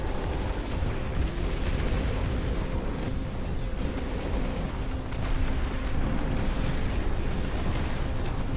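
Heavy bomb blasts in the real-time strategy game Dust Front RTS, a dense, continuous low rumble of explosions and booms rolling on without pause, loud and full, with no voices.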